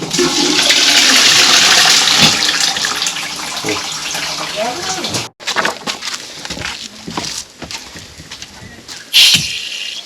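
Toilet flushing in a home, a loud rushing surge of water that then drains away, followed by the cistern refilling with quieter trickling and clunks, with a brief burst near the end.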